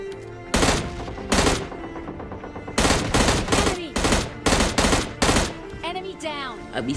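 Gunfire from the mobile game PUBG Mobile Lite comes as sharp, loud bursts, some single shots and others in rapid clusters, with short gaps between them. A voice talks under the shooting in places.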